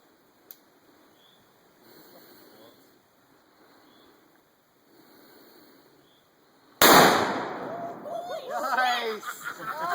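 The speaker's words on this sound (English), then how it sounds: "Steve's got dry tannerite, so it's really gonna blow up" A dry tannerite charge packed with a stuffed dog and a phone book goes off as a single loud, close blast. Faint voices precede it, and excited talk follows over the fading rumble.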